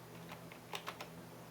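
A few quick, light keystrokes on a computer keyboard as a first name is entered, soft clicks over a quiet room hum.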